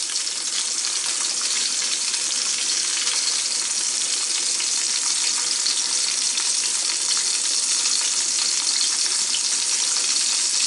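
Sausage frying in a pan for a sausage sandwich, a loud, close, unbroken sizzle that stays even throughout, no talking.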